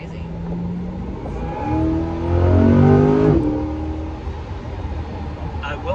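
The engine of an Eray car revs and accelerates on a test drive, a rising whine that climbs in pitch, peaks and then falls back, with steady road and wind noise and voices talking over it.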